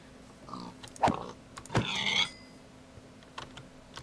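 Pigs oinking in the Minecraft video game: a few short nasal grunts and squeals, close and fairly loud, spaced irregularly and mixed with soft clicks of computer keys, with no talking.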